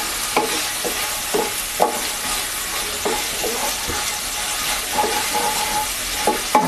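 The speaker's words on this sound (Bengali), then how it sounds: "এবার পেঁয়াজ পেস্টটা দিয়ে দিচ্ছি।" Onion paste hits hot oil over already fried ginger and garlic for a Bengali egg curry, sizzling steadily while a spatula scrapes and clacks against the pan in irregular strokes, close and without talk.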